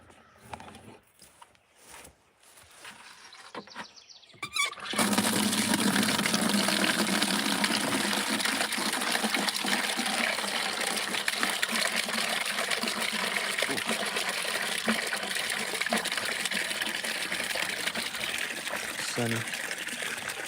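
After a few quiet seconds of faint movement, running water starts gushing and splashing steadily, close by and continuous until the end.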